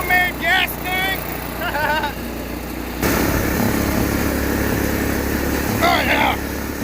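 Small engine of a Case XC210 lawn mower, long unused and fed from a homemade gas tank, runs on a ride as a steady drone, louder in the second half, while voices call out over it.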